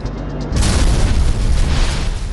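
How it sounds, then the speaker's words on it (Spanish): An enormous, very loud explosion bursts aboard an airplane in flight, a sudden deep boom that jumps in from a quieter cabin and rumbles on densely for about two seconds. "Una explosión enorme y muy fuerte."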